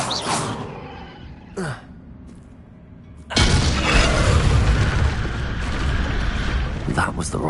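Depulso spell blast in Hogwarts Legacy striking during a wizard chess puzzle, a sudden loud booming burst after quieter clinks, leaving a rumbling mechanical tail with faint voice.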